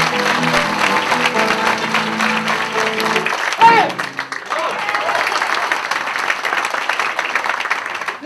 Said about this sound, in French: c'est un truc que j'ai trouvé pour me faire applaudir 2 fois quand j'arrive